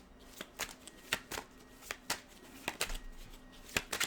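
A deck of tarot cards being shuffled by hand, with a rapid, irregular series of close, crisp riffling snaps and slaps, no talking.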